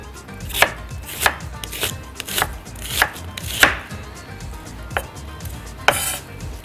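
A knife chops red onion for a salad on a board, giving about nine crisp, evenly spaced thuds heard close and clear, with no voices.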